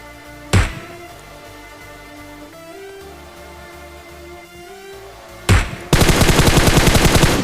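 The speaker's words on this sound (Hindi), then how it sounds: "फिलहाल भाई पीछे से कुछ फायरिंग शॉट आते हैं हम पे।" Gunfire in a shooting video game: a sharp single shot, a stretch of quieter in-game ambience, another loud shot, then a dense burst of rapid automatic fire closing the clip, with no talk over it.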